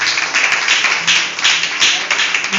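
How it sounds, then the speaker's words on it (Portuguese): Church congregation applauding together during worship, a steady wash of hand clapping with faint voices mixed in, fairly loud and continuous throughout. "Uma salva de palmas para Jesus."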